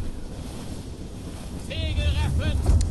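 A wind gust sweeps over a sailing ship at sea in Assassin's Creed Rogue, a broad whooshing roar over water that swells toward the end, with a few short tonal calls near the close.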